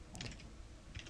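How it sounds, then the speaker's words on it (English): Someone types on a computer keyboard, entering a password in short, soft, quiet bursts of key clicks with a pause between them, heard alone without talk. "I'll just have to remember I'm typing this in"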